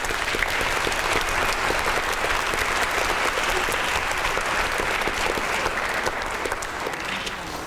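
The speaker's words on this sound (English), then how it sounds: "let's give these guys another round of applause" Audience applause after a live performance, a dense, even roar of many hands clapping that holds steady and loud, tapering slightly near the end.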